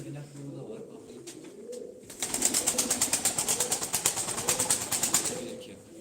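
Purebred Sivas pigeons coo softly beneath someone talking, then a rapid burst of fluttering wing claps or tapping takes over, loud and close for several seconds.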